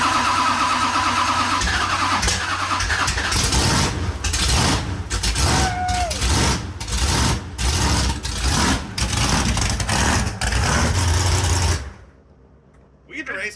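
A freshly restored car engine with a new gasket and new hoses cranks and fires, then runs loud and close with revving bursts under voices talking, before cutting off into near quiet.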